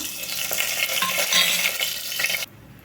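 Biryani spices fry in hot oil with a loud, bright hiss and crackle while being stirred, then the sizzle abruptly cuts off.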